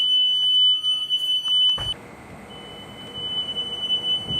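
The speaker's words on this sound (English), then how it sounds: "as well as the audible alarm for the emergency exit on the rear door" A school bus rear emergency exit door alarm rings as a steady high buzzing tone, continuing loudly, briefly cut off, then resuming over a rumbling idle engine in the background.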